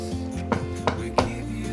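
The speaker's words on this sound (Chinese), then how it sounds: "切成粗條狀，把黃甜椒切成大丁狀。" A knife cutting yellow bell pepper on a cutting board, three crisp distinct chops at an even pace, close and clear with no talking.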